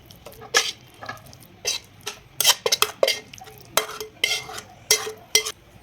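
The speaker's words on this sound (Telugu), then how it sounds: "రెడీ చేసుకున్న ఎగ్ రోస్ట్ని ఒక బౌల్లోకి తీసుకుంటున్నా." A spoon scrapes and clinks against a pan while egg roast is scooped into a bowl, a close series of sharp metallic knocks and brief scraping strokes, no talking.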